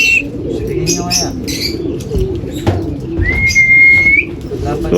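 Racing pigeons arrive at a loft during a fun race in Calamba, Laguna, with soft cooing, chirps and brief wing flaps, close by, under people talking excitedly.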